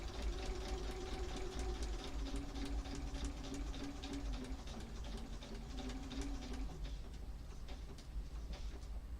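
A sewing machine stitches a quilt along a fold line, running steadily with a dense mechanical hum and rapid needle rhythm through the whole stretch, close and continuous.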